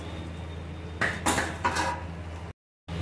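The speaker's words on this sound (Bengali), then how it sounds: "এবারে দিয়ে দেবো ভাজা সবজিগুলো।" Fried vegetables tipped into a pan and mixed, a few clattering knocks and scrapes of metal utensil against the pan, close and brief, with quiet sizzling underneath.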